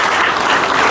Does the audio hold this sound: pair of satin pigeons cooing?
no